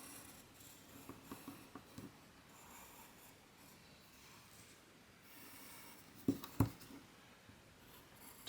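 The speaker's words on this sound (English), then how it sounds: "So you're going to take a pencil and trace your template, trace around your template." A pencil traces around a template on cardboard, a faint, soft scratching that runs on and off, with a couple of louder knocks near the end.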